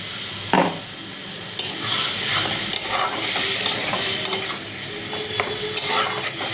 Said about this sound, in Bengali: ভালো করে কষিয়ে নিতে হবে। দেখো আমার আলু কষানো হয়ে গেছে